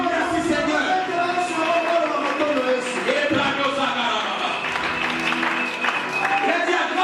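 A church congregation claps and cheers in acclaim of Jesus during a French-language prayer service, a dense, steady burst of applause with crowd voices throughout.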